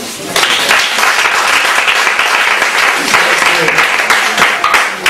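A church congregation applauds to acclaim God, a dense continuous wash of clapping that holds steady and loud from start to finish, with voices mixed into it.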